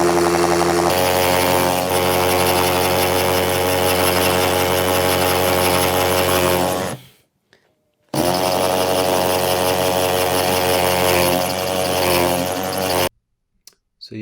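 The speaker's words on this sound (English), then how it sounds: "when the drill is starting to move like this, is that the hole is becoming bigger than the size of the butt." A power drill boring a hole into a wall runs at a loud, steady whine with rich motor harmonics, stopping briefly near the middle before starting up again and cutting off near the end.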